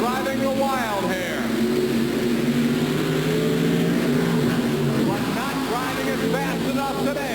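Monster truck engines, including the Chevrolet Wild Hair racing the Carolina Crusher at the 1990 TNT Monster Truck Challenge in Bowling Green, Ohio, roar loudly and rev in rising and falling sweeps while an announcer talks over them.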